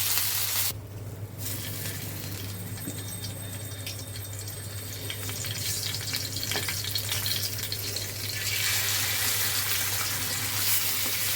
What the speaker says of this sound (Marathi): आता अजून दुसरं काहीतरी आपण फ्राय करूया